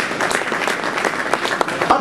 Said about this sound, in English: let's give the Midwest Breeders a big round of applause.